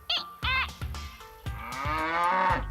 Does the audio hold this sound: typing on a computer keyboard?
no